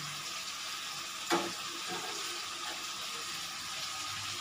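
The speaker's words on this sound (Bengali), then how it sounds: "এই দেখো এবার আমি হালকা একটু নেড়ে নিচ্ছি" A winter vegetable curry of potato, cauliflower, green peas and paneer sizzles steadily in a pan while being gently stirred, with one sharp clink of a utensil partway through.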